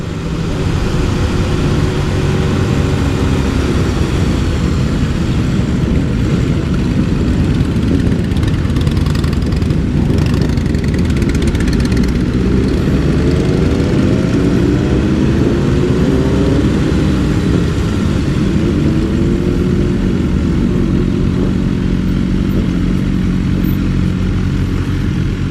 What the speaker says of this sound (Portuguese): é muita moto pra andar junto.